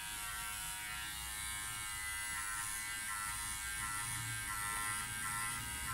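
A Powertec TR 1700 electric hair clipper runs continuously while cutting hair at home to a number 3 length, giving a steady loud close buzz throughout with no speech.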